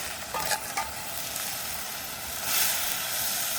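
Washed dried kattapaarai fish hits a hot pan with a steady, close sizzle and frying hiss, stirred with faint scraping and a brief swell of steam near the end.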